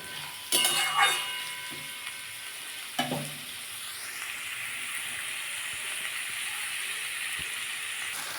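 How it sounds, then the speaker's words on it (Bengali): Mashed cucumber is fried in oil in a pan for a Bengali-style bharta, giving a steady, soft sizzle throughout, with a few close clinks and scrapes from a stirring utensil near the start. "এটাকে সমানে একটু ভাজতে হবে যতক্ষণ না শোষা থেকে জলটা দেবে ততক্ষণ ভেজে যেতে হবে"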